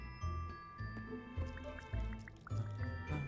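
Water splashing and dripping in a video game, with wet liquid spatter and dripping sounds recurring in a rough rhythm over steady game music tones.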